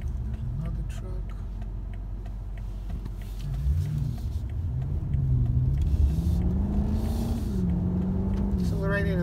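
A 2018 BMW M5 F90 pulls hard through a corner, its engine rumbling low and climbing in pitch as revs rise over several seconds, with a voice talking over the cabin noise.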